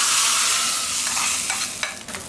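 Garlic and dried red chillies frying in hot oil as a tempering for an arai keerai sambar, a steady close sizzle with a few stirring scrapes toward the end, no voices.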